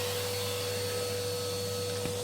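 A vacuum cleaner runs continuously at close range while sweeping around a red enamel multi-fuel wood-burning stove, a loud steady whine with a constant tonal hum and no break.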